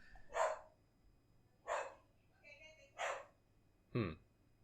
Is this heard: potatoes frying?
no